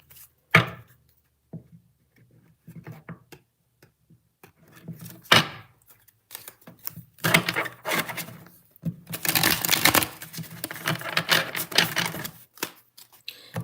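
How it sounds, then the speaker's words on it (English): Tarot cards are shuffled in quick riffles and soft slaps, with rustling bursts between quieter pauses and no speech. "I feel like maybe shuffling and drawing another card."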